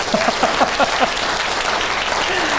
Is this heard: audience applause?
yes